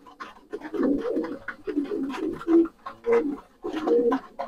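Pigeons coo repeatedly in a loft while pecking at grit, several low throaty calls close by with faint scratching between them.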